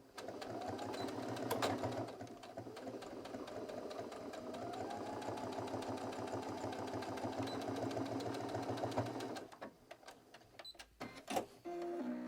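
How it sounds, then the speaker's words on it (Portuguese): A sewing machine runs steadily, stitching close to the edge of a fabric lining with discreet thread on a small double purse. The close, continuous motor whir and needle rattle stops around nine seconds, leaving a few faint handling clicks. "Então eu vou passar uma costura à máquina com uma linha bem discreta"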